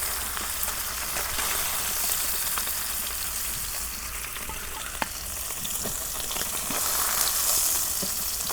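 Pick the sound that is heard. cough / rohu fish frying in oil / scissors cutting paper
rohu fish frying in oil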